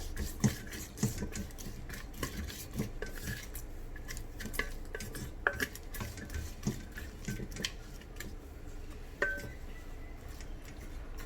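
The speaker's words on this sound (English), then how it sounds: "now we're going to add in the onions. Give it a quick stir." A spoon scrapes and clinks against a rice cooker pot as onions are stirred in with frying aromatics, giving irregular close taps over a soft sizzling hiss, with no talking.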